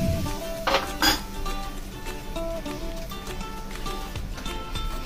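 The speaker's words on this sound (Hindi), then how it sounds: "और यहाँ पे अभी हम ऑयल डाल रहे हैं इसमें गर्मा गर्म, और ये जो सारे मिक्सचर है इसको हम अच्छे से मिक्स कर लेंगे।" Spoon clinking and scraping around a bowl while a spicy sauce mixture is stirred after hot oil is poured in for Korean-style Maggi noodles, with brisk metallic taps and a couple of louder knocks, close and without talking.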